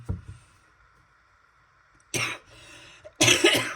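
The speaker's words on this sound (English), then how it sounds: "Sorry about the coughing." Two harsh, loud coughs about a second apart, following a quiet stretch with faint low rumble.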